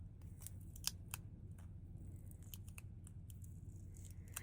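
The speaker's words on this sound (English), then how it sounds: "we're going to grab our scissors, and we are just going to trim right underneath the clip" Scissors snip through a UV DTF wrap just under a clip, a series of quiet, sharp, irregular cuts in a hushed room.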